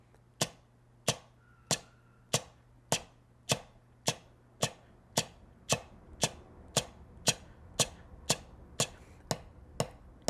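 Drumsticks strike a practice pad in alternating strokes, sharp dry taps at a steady even pulse, about sixteen hits that gradually come slightly faster, close and alone.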